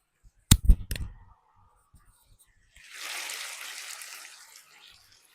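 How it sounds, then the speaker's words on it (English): Beef taco mix frying in a pan, heard as a soft broadband sizzle that rises after a few loud close knocks and handling clatter, then holds steadily for about two seconds before fading. "So you can hear that it's more of a frying motion."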